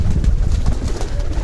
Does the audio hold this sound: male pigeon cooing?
yes